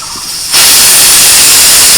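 A pressure cooker suddenly lets out a loud, steady hiss of escaping steam that starts abruptly and continues without a break, cooking thin-sliced mutton after several whistles.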